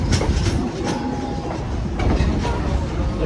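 A passenger train rolling through Lehigh Gorge near Jim Thorpe, Pennsylvania, in autumn, with loud continuous rumble and rhythmic clickety-clack of wheels over rail joints, close and steady, no voices.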